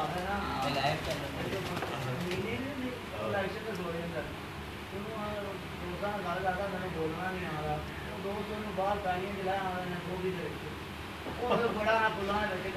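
Pigeons kept by a fancier in Kasur coo continuously in low, rolling calls close by, while people talk over them for much of the time.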